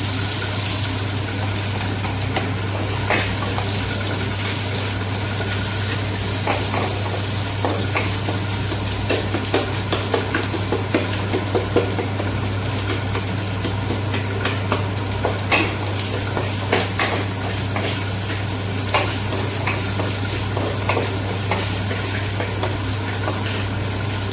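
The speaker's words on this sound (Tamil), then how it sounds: "இப்போ பூண்டு போட்டு நல்லா வதக்கலாம்." Garlic sautéing with leafy greens in a frying pan for a keerai poriyal, giving a continuous close sizzle with scraping stirs throughout and no talk.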